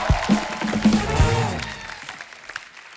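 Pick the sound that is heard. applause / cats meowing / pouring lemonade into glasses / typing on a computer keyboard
applause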